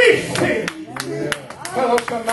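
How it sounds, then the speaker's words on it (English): A church congregation claps hands in praise during a sermon, sharp scattered claps ringing out at an uneven pace beneath continuing spoken and shouted voices. "go ahead and give God another hand clap of praise"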